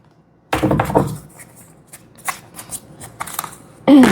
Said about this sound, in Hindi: कुछ कार्ड्स और निकालते हैं एक बारी।